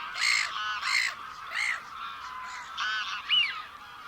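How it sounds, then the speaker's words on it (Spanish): Harsh, laughing calls of a black-headed gull in short bursts, several loud cries close together with brief pauses, no voices. "La reidora, gaviota reidora, tampoco es una onomatopeya, pero se ríe, definitivamente."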